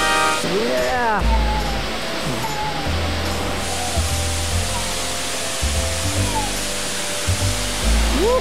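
Kaau Crater waterfall on a hike in Hawaii, a loud, steady broadband rush of falling water, with people cheering and talking over it.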